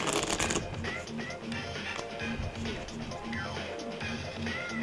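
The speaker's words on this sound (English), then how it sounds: "So I'm going to take that back in the deck. We're going to shuffle again." A deck of cards is riffle-shuffled up close, a sharp ruffling burst followed by softer repeated card snaps, with a voice talking quietly underneath.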